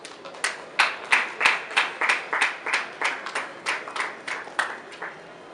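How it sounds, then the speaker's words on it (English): A small group claps for a speaker at a conference, a sparse, fairly even rhythm of distinct claps that gradually thins out near the end. "Please give him a round of applause."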